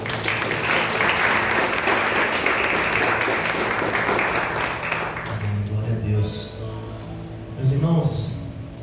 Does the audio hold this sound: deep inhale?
no